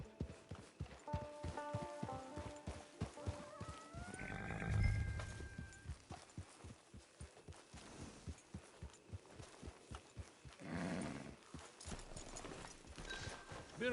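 A horse in Red Dead Online clip-clops steadily in a regular, close hoofbeat rhythm, with a brief snort or whinny in the middle and no talk.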